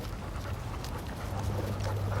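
A dog pants steadily and close by, with quick rhythmic breaths that run for the whole stretch over a low background hum.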